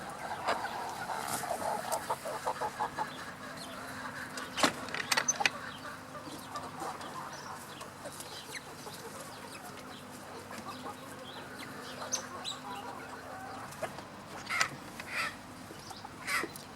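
A flock of chickens and roosters, some mottled and nearly wattle-less, clucks and calls steadily over about seventeen seconds, with scattered louder squawks rising above a constant mid-distance barnyard murmur.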